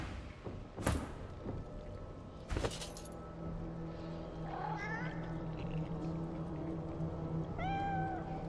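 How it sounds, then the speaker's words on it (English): Undead cat in Divinity: Original Sin 2 hissing and yowling, with two sharp bursts early on and drawn-out meows later over a steady ambient game drone. "The undead cat arches its back and hisses aggressively at your presence."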